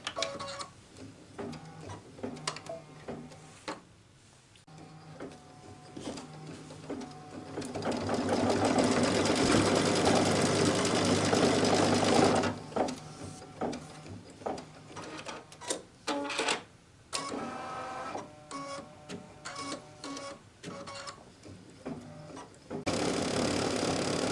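A sewing machine stitches fabric onto faux leather in close, rapid mechanical bursts, a sustained run in the middle and shorter start-stop passages before and after.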